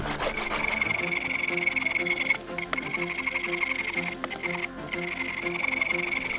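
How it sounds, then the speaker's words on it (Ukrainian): A ten-dollar hand saw cutting an oak log on a sawhorse into thin discs: steady rapid rasping back-and-forth strokes, close and continuous, with two brief pauses. "Кладемо на козел дубову колоду і починаємо розпилювати її на відрізки товщиною в два пальці."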